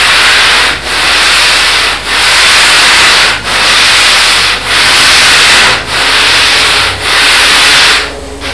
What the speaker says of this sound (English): I'm using the sanding block actually to miter the corners so that they fit and everything butts up